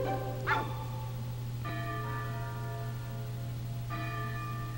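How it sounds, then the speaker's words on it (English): Bell strikes ring out in the Pokepark Wii video game, three clear chimes spaced a second or two apart, each with a long shimmering decay over a steady low hum. "Uh-oh. The bell."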